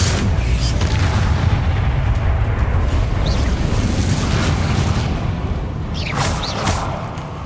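A Confringo fire spell explodes in Hogwarts Legacy, a loud sustained boom and roar filling the whole stretch, with a second burst flaring near the end.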